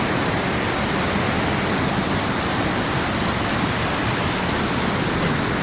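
Creek water along the Feather River in Plumas County rushes in a dense, constant broadband roar. It is loud and close, with no pauses and no voices.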